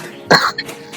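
A single sharp cough comes up close, then a smaller throat-clearing catch and a few faint rasps, with quiet room tone behind.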